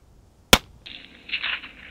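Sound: rifle shot at a roe deer while hunting

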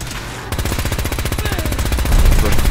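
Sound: Gatling gun firing in a video game

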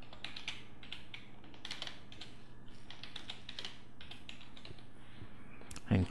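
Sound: typing a password on a computer keyboard

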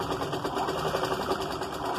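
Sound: sewing machine stitching hanging tassels on a dress

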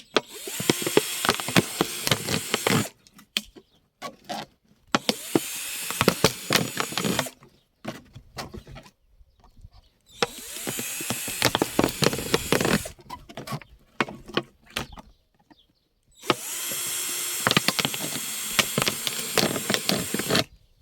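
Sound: making holes in a plastic bottle

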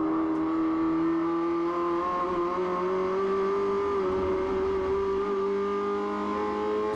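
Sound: SsangYong race car engine at full throttle, flat-shifting gears

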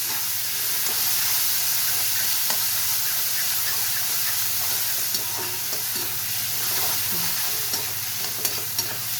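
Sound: onions and tomato frying in a pan

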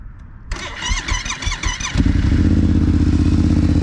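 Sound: motorcycle with Akrapovic exhaust starting up

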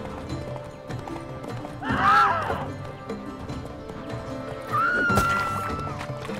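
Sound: horse galloping in The Witcher 3 video game tournament

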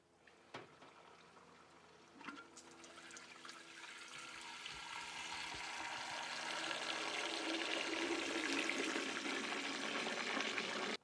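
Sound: water flushing through GrowoniX carbon filter

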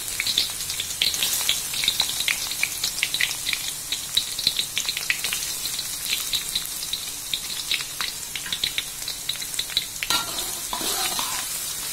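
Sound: sautéing red onion and garlic in hot oil

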